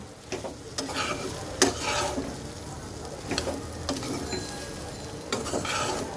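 Fried soya chunks stir-fried with spices in a pan: a steady sizzle and frying hiss with repeated scrapes and clinks of a spatula against the pan, close and fairly loud, no voices.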